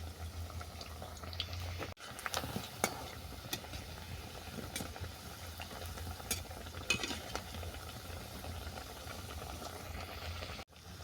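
Banana flower fritters (mochar bora) frying in hot oil, a steady close sizzle with scattered pops and crackles running through, briefly cut off twice.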